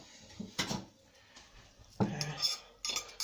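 A metal utensil scraping and clinking against an already scratched frying pan while making pizza, in a few short, close scrapes.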